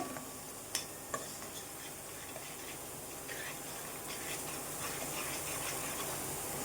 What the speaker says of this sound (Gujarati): આપણો ચણાનો લોટ સરસ શેકાઈ રહ્યો છે અંદર